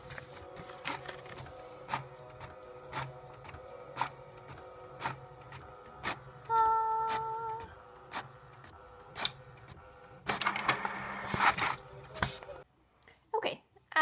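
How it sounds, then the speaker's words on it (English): Small inkjet printer printing shipping labels, a steady train of evenly spaced mechanical clicks and ticks from the print head close by, with a brief whirring feed and rustling paper toward the end. "I got my trusty little printer from college that is still going strong."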